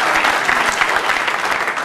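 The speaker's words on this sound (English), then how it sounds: "Okay, clap for the naked body" Studio audience on a late-night talk show breaks into dense, loud applause with some cheering, steady throughout, with no talk over it.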